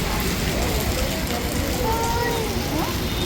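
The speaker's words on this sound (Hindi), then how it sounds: "बहुत ज़्यादा तेज़ बारिश हो रही है" Heavy rain pours steadily outdoors, a dense continuous hiss with no breaks, moderately loud and close throughout.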